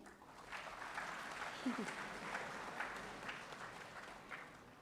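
Faint, steady applause from a crowd at an award presentation ceremony rises and falls, mixed with a murmur of voices.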